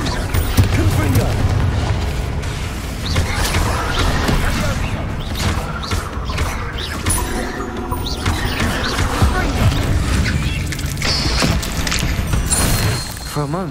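Repeated Confringo blasting-spell explosions from the Hogwarts Legacy video game on PS5, loud booms and crashing impacts following one another in dense succession over steady game noise and music, with no voices.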